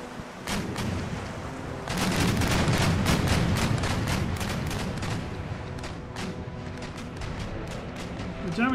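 Naval cannon broadside in Empire: Total War, a dense barrage of booming shots fired in rapid succession, swelling louder after a couple of seconds and rolling on continuously with sharp cracks over a deep rumble, with speech mixed in.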